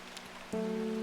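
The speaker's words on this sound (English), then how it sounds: "Does it ever stop raining in Undermere?" Rain falls steadily in the video game Strange Horticulture as a soft, even hiss, and halfway through a sustained ringing tone joins it and holds to the end.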